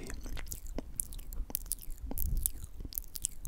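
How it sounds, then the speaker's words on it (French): Close, quiet ASMR mouth chewing noises, with soft wet clicks, smacks and squishy bites coming in an irregular rhythm and no talking. "des bruits de mâchage"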